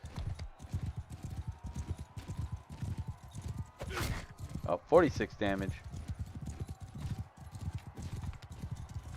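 Horse hooves clip-clop in a steady rapid rhythm in Mount & Blade Bannerlord as a mounted rider takes arrow fire, with a whinny and someone talking over the galloping.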